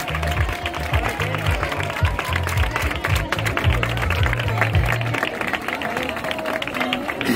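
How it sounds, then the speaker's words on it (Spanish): Crowd applause for a woman honored at a neighborhood verbena celebration, steady clapping throughout with a background of voices and crowd noise mixed in. "O sea que también un aplauso para Janet."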